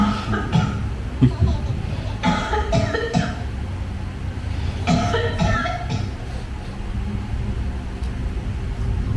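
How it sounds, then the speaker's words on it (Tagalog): Bursts of coughing come in two clusters, hoarse and fairly close, with murmured voices and background noise between them. "Yung umuubo, may umuubo."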